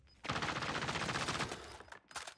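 Rapid automatic gunfire in the video game Warzone, a loud sustained burst of close shots, a brief pause, then a second short burst.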